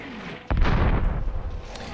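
Artillery fire in the battle game Warhammer: Dark Omen, a sudden loud boom opening a dense, rumbling burst that sustains through the rest of the moment with no voices.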